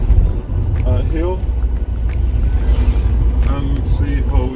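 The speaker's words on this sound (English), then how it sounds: "see how it's pulling up the hill and how the transmission and the engine respond over the hill" BMW 1 Series car engine pulling up a hill after a rebuild, a steady loud low drone with wind rush throughout, while a person talks over it.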